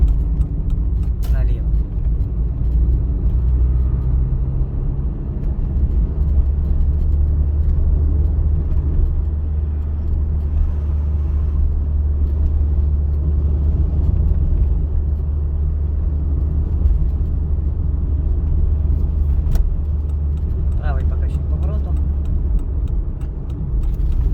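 A car turning left during a driving exam at a service centre, a steady low engine and road rumble running the whole time beneath an instructor's voice.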